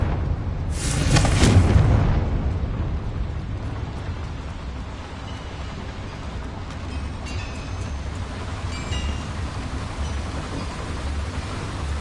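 A Confringo spell blast in Hogwarts Legacy inside a small mine, a loud booming explosion near the start that rumbles and decays into a long low rumble with faint debris clatter, no talking.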